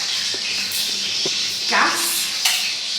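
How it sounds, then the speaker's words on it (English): Steady broad hiss of gas feeding through a wall to a cooking hob in an apartment kitchen, continuous and close, with a few faint clicks and bumps over it. "that is the sound of a cooking hob"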